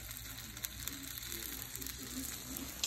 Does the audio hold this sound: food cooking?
yes